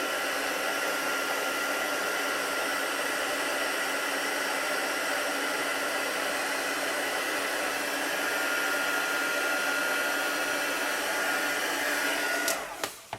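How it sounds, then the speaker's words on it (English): A heat gun melts gold embossing powder, blowing a steady, even whoosh like a hair dryer for over twelve seconds before cutting off with a few clicks. "That's why you keep your heat gun moving."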